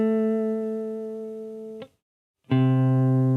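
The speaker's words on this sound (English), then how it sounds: "That's the sound of a sixth, a major sixth." Two sustained guitar-like tones played one after the other, C then A a major sixth above, each ringing clearly and alone with a short silent gap between them.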